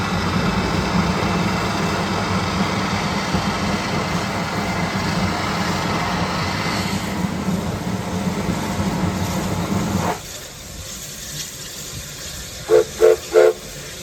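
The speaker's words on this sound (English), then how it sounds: "The 1880s train runs between Hill City and Keystone." Steam locomotive of an 1880s-style train running between Hill City and Keystone, a steady loud rumble and hiss that drops off abruptly, followed by three short whistle blasts near the end.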